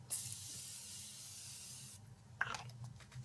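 Morphe Continuous makeup setting spray misted from a bottle: one long, even hissing spray lasting about two seconds, a short pause, then a second quicker spritz, close and fairly quiet.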